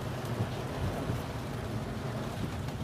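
Steady rain hisses and patters during a road trip, a dense, even wash of drops on the surface with a low rumble underneath, continuous and fairly faint with no talking.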